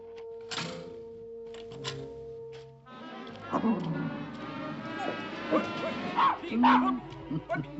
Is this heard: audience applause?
no